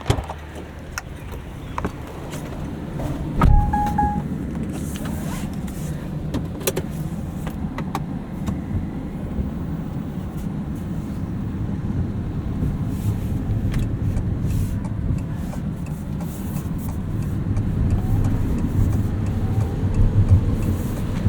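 Interior of a 2024 Fiat 500e electric car on the move, a steady low rumble of road and tyre noise with a faint whine and occasional soft clicks, no talk.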